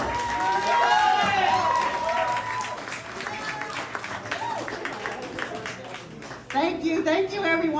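A fundraiser crowd claps and cheers in sustained applause, loud and dense throughout, with a brief dip before a fresh swell near the end.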